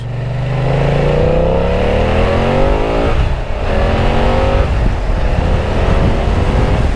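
A BMW F900XR motorcycle engine revs hard through rising gears, pitch climbing steadily, then dropping at a gear change before pulling up again, loud and close with constant wind rush.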